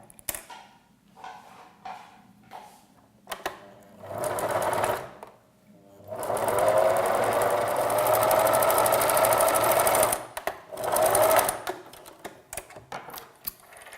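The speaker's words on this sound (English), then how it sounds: "So now at the sewing machine, I'm going to stitch these pieces together." A sewing machine runs in bursts, its rapid mechanical stitching rattling steadily for several seconds with short pauses and quiet handling noises between runs.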